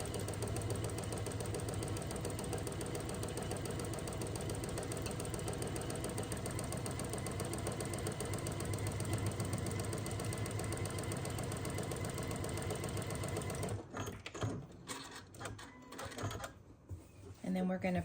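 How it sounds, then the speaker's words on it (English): A lock-stitch sewing machine runs at a steady whir, stitching strips of a log cabin quilt block, its rapid even needle chatter going continuously before stopping near the end, with a person talking over it. "my machine has a lock stitch, so it locks that first stitch in place"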